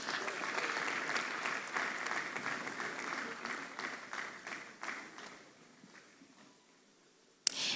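Audience clapping welcomes a speaker at a national dialogue on tax revenue leakages, steady applause that thins and fades out toward the end before a sudden sharp knock.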